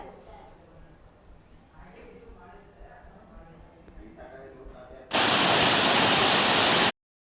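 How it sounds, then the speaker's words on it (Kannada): Balebara waterfall drops fifty feet in monsoon rain, a dense roaring rush of water that surges in loud and unbroken for about two seconds, then cuts off. Quiet speech comes before the roar. "ಐವತ್ತು ಅಡಿ ಎತ್ತರದಿಂದ ಬಾಳೆಬರ ಜಲಪಾತ ಧುಮ್ಮುಕ್ಕಿ ಹರಿತಾ ಇದೆ"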